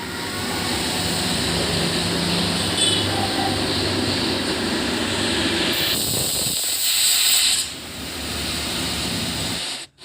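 A pressure cooker cooking vegetable daliya whistles and hisses loud, continuous steam close by, a sustained bright hiss with whistle tones that shifts partway through, then drops away abruptly near the end.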